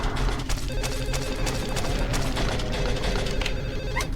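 Telephone ringing in the video game Silent Hill 4, a continuous electronic ring over a dense, noisy game ambience, steady and fairly loud with no talk.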